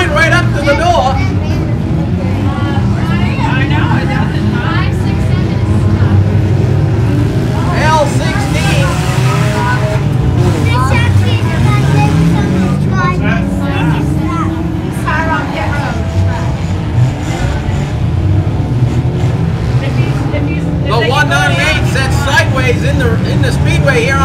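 Race cars roaring past on a speedway front stretch, a loud continuous engine drone with passes swelling and fading, under excited commentary and crowd chatter.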